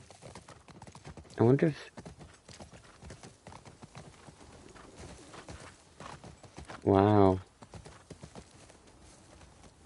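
Horse hooves clip-clop steadily on the ground in The Last of Us Part II, a continuous moderate rhythm throughout, with brief speech and a louder exclamation over it and faint birdsong in the background.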